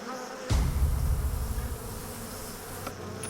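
A dense swarm of bees buzzing loudly and close, a continuous droning hum that swells briefly and then holds steady.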